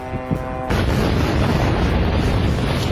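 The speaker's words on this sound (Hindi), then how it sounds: "अमेरिकी बेस पर विस्फोट से तबाही" An explosion from a drone attack on a US base in the Arab region: a faint tonal drone gives way to a sudden loud blast that swells into a dense, sustained rumbling roar.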